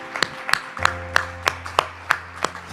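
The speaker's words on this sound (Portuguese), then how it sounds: "Eu mesmo aplaudo." A preacher claps his own hands, about eight sharp, evenly spaced claps, loud and close, with a steady low hum underneath.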